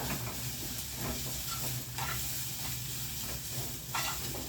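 Gravy boils in a pan, bubbling and sizzling steadily, a continuous hissing boil with occasional soft clinks, no talking.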